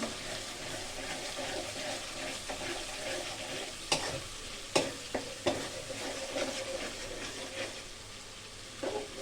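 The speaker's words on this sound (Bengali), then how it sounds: "এই তো আমার মশলা কষানো হয়ে যাচ্ছে।" Onion, garlic, turmeric, chili powder and salt frying in oil for a bottle gourd and shrimp curry, a steady low sizzle broken by a few sharp stirring scrapes and knocks.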